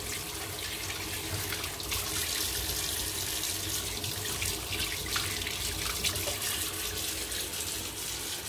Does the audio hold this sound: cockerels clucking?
no